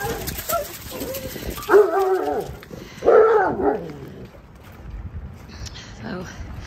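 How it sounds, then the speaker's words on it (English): Hounds at breakfast time, fed raw chicken, let out a couple of loud, close barks and whimpering yelps in two bursts, with quieter restless dog noises between them. "You'll see ferrets, the big black one in the middle, barking."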